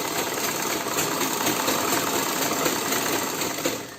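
A vintage manual Butterfly sewing machine stitches forward in a steady, fast mechanical whir with an even clatter, close and continuous for the whole stretch, with no talking.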